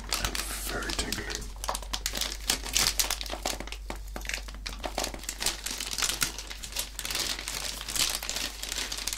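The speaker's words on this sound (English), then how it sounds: "The plastic bag they use in these are always great and very tingly." Plastic bag crinkling and rustling continuously up close while an LG sound system is unboxed, dense crackly texture throughout with a steady low hum underneath.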